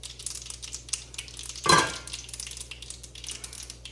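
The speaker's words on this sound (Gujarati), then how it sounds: "મીનલે વઘાર નાખી દીધો અંદર" Tempering (vaghar) hits hot oil in a pot with one sudden loud sizzling burst that fades within a second, amid quiet kitchen clatter.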